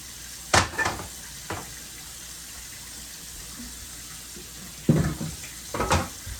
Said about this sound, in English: Gonna fill the pan with water.